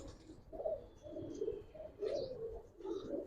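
Giribaz pigeons in a loft coo softly in a series of low, throaty bursts, faint and close, over a murmuring background.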